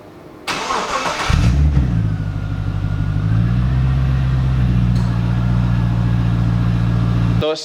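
A Jeep WK fitted with a new Black Ops catback exhaust cranks and fires up, then settles into a deep, steady idle rumble that runs loud and close until it cuts off abruptly at the end.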